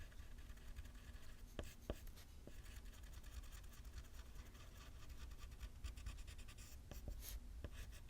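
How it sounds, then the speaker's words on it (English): A colorless blender pencil buffs colored pencil into a wood surface, making a faint, continuous dry scratching and rubbing with small irregular ticks, close and quiet with no voices. "I'm going to sort of buff that color in just a little bit with the colorless blender."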